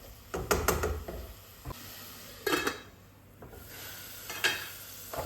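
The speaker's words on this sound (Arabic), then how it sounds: "من بعد ما نشوف البصله ديالي كتبان ليا نزلات وتشحرت" Chopped onion cooking in oil in a pan for lasagna with ground meat, giving a steady soft sizzle broken by a few louder stirring and scraping bursts against the pan.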